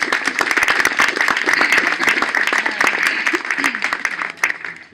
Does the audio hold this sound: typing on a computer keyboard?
no